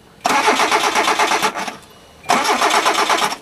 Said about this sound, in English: Crank her up!